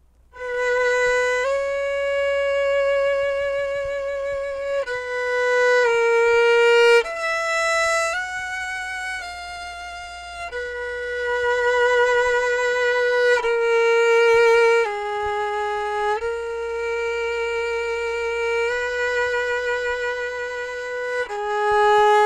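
Solo violin, bowed with shaped swells, plays the slow final movement of Messiaen's Quartet for the End of Time: a sequence of long sustained notes that rise and fall, each gently swelling, heard alone and close.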